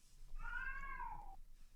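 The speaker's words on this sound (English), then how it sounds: "to hear that cat really kills me" A cat gives a single drawn-out meow that rises and then falls, clear and fairly close against a quiet room, with no talking.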